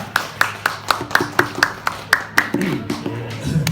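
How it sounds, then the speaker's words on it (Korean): A small indoor audience gives a youth self-governance research institute director a short round of scattered, rhythmic claps, fairly close and spaced evenly, while low talk murmurs underneath toward the end. "박수 부탁드리겠습니다."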